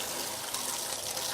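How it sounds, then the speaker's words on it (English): Warm water gushing from a tap into a bathtub, a steady close hiss and splash that runs unbroken throughout, heard alone. "fill the bathtub up with warm water"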